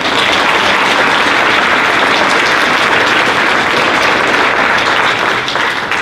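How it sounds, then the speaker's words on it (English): A large audience at a school honor society induction ceremony applauds a middle school honors band, a loud, dense, unbroken roar of clapping that holds steady throughout. "How about another round of applause for them?"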